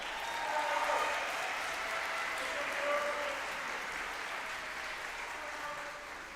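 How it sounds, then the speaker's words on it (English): Audience applause at an eighth grade graduation, a soft, distant wash of clapping with some voices mixed in, gradually easing. "That was a great clap."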